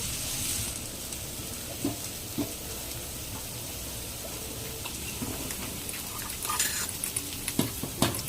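Capsicum and prawns frying in a pan, a faint soft sizzle with occasional light clinks and stirring scrapes scattered throughout.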